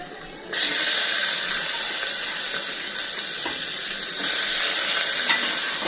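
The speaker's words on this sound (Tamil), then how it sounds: "வெங்காயம் போட்டுக்கலாம்." Onions dropped into hot oil burst into a loud, sudden sizzle that holds as a dense, steady hiss for several seconds, close and alone.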